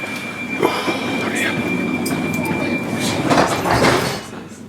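A Glasgow Central-bound train at Branchton station hums steadily nearby, with a tonal whine and occasional clunks, while a voice talks over it.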